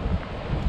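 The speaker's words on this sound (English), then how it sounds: "it's a little bit windy" Steady wind on a Scottish Highland shoreline, a continuous broadband rush with microphone buffeting and low gusty thumps, loud and close, with no talking.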